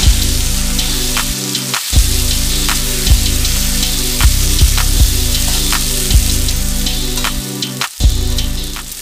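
Ginger and garlic paste sizzles steadily in hot oil with potatoes, a loud, continuous crackling fry broken by regular soft knocks and scrapes of stirring in the pan.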